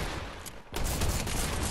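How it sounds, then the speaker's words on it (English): Rapid drum shotgun fire rattles in a Fortnite match, a loud dense burst that briefly drops out and then resumes as a sustained barrage, with no talking over it. "this drum shotgun is so bad"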